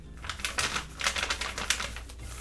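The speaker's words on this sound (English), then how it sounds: "You can hear this paper's a little crunchy." Pencil scratching across crunchy, textured paper in a field journal, a close, busy run of short dry strokes with a steady rhythm and no voice.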